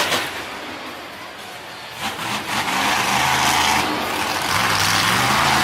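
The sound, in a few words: Bounty Hunter monster truck engine revving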